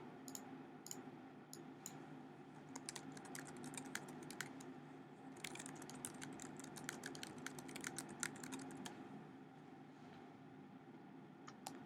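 Steady typing on a computer keyboard, with quick irregular keystroke clicks and brief pauses, fairly quiet and close, running for about twelve seconds with no talking.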